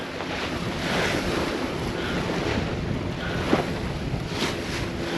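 A sailboat runs without its mainsail in a moderate breeze, and steady wind rush blends with the wash of waves along the hull. The roar is loud and continuous, with microphone buffeting and no voices.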